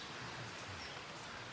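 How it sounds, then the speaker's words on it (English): Rain begins falling outdoors, a steady, faint broadband patter and hiss that fills the whole stretch without distinct individual drops, with no one speaking. "It's starting to rain."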